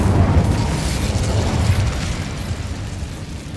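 An Incendio fire spell cast in Hogwarts Legacy, heard as a close, rumbling whoosh of flame that bursts loudly at once and then slowly dies away.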